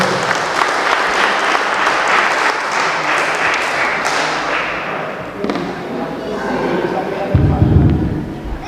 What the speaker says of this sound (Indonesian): Kami silakan, berikan aplaus.